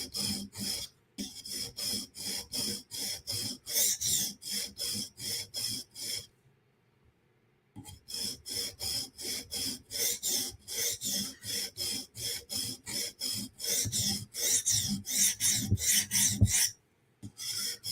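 A knife heel is lightly sharpened on a TSProf Kadet guided sharpener, giving steady rhythmic rasping strokes up close, with two brief pauses and no talk.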